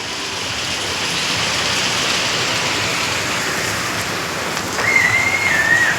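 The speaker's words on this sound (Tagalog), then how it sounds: "Maulan, nagapon na." Steady heavy rain pours down near a creek in a constant broadband hiss, with a thin whistle-like tone rising briefly near the end and no talking.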